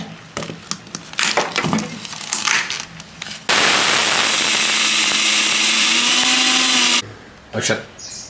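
A mixer grinder whirs loud and steady for about three and a half seconds as it grinds roasted rice, with people talking before it starts and again right after it stops.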